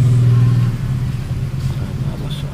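Gasoline engine of a Mazda E2000 Power Van idling with a steady low rumble, loud and close, holding an even drone throughout with no voices.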